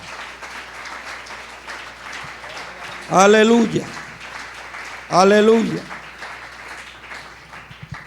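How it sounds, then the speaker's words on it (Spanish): A church congregation claps through a sermon on the Second Coming, a continuous patter of applause under a voice that rings out loudly twice. "Démosle un aplauso al Señor."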